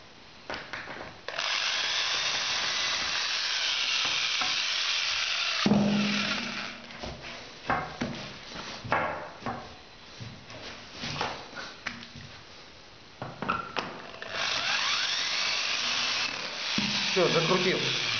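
A power drill drives screws through a door hinge into a wooden door frame, with several loud whirring bursts separated by short pauses and handling clatter.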